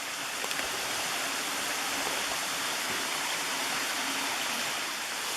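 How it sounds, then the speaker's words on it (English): A waterfall and flowing mountain water on a hike make a steady, dense rushing roar that stays loud and even throughout, with no breaks or voices. "The sound of waterfalls and water and birds and everything."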